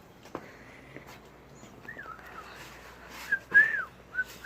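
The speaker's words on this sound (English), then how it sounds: "That's the calling whistle." A calling whistle meant for a bird: a string of clear whistled notes, some held and some sliding up and down, growing louder toward the end after a sharp click near the start.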